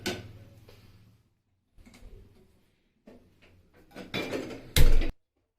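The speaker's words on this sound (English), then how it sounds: "So I've taken a pan." A metal pan handled on a kitchen stove before caramelizing sugar, several sparse clanks and knocks with quiet gaps, ending in a louder scrape and clatter.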